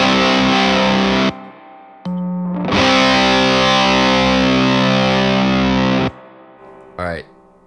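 Electric guitar through a Bucket fuzz pedal, knobs set at noon, in a fuzz shootout: thick, saturated fuzz chords ring out loud and sustained in several bursts with short gaps, ending in a brief bent note.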